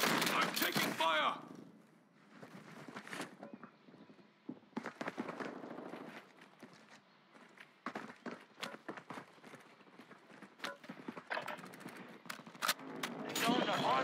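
Gunfire in the video game Call of Duty Warzone 2.0, with rapid bursts of shots scattered throughout, some near and loud, others quieter, mixed with game voices speaking.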